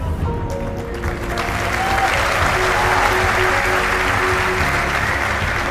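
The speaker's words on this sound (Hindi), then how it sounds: "देख लो कितने सारे लोग की आवाजें आई है।" An audience of students responds aloud together in a large hall, a broad swelling wash of many voices that builds and holds.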